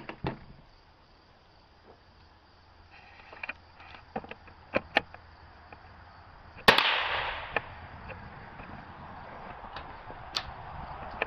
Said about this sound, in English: This is what a happy woman looks like on the gun range. She's shooting the target on the left.